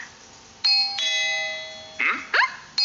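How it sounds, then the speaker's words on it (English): A doorbell chimes twice with clear tonal ding-dong notes, then a few brief higher tones follow, fairly loud and close, with no talking. "Was that the doorbell?"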